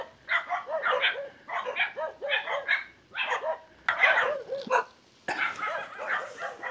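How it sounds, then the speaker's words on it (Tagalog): Many dogs bark in repeated bursts, some yips mixed in, fairly close along a rural route near Kawayanan Falls in Amadeo, Cavite, with no talk over them. "Grabe, ang daming aso."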